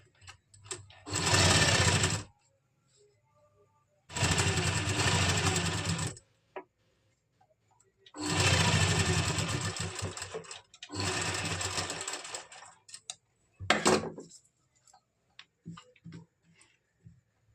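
A sewing machine stitches a loose basting seam around a kameez neckline backed with buckram, running in four loud close bursts of a few seconds each with short pauses between them and a brief final whirr.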